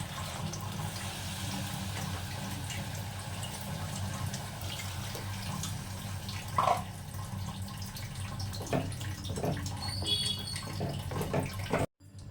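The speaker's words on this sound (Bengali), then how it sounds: "এবারে দিয়ে দেবো দু বাটি জল" Water is poured into a cooking pot for oats khichdi, a continuous soft splashing rush that carries on steadily and ends abruptly.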